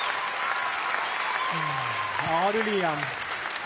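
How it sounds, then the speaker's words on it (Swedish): A studio audience at an Idol Sverige 2016 television show claps and applauds steadily, with someone speaking over the ovation. "Publiken goes berserk in the studio."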